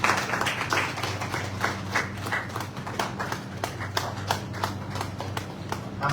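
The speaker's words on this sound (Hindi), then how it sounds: "साथियों, तालियां बजती रहनी चाहिए।" Audience applause at a Hindi academy book-launch event: steady, dense clapping that holds at an even level throughout, with a low sustained hum underneath.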